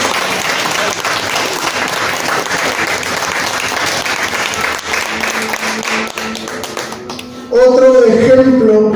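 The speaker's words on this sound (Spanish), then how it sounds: "Denle una ofrenda de palmas al Señor." A church congregation claps loudly and steadily in a dense, sustained round of applause for several seconds before a voice speaks over the fading clapping.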